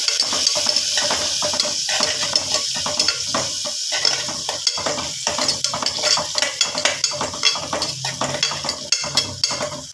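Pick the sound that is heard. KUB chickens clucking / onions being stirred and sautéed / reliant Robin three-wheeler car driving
onions being stirred and sautéed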